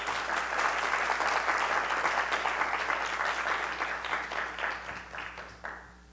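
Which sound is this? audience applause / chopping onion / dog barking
audience applause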